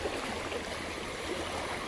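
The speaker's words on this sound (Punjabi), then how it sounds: "ਤੇ ਆ ਪਾਣੀ ਦਾ ਇੱਧਰ ਫਲੋ ਦੇਖ ਸਕਦੇ" Floodwater flows past a village road near a low bridge, a steady broadband rushing wash without pauses, moderately faint and unbroken throughout.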